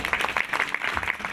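An audience claps together in a devotional gathering, a dense, steady patter of many hands at close to medium distance, continuing without a break.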